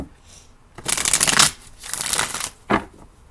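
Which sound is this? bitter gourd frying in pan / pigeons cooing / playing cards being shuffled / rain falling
playing cards being shuffled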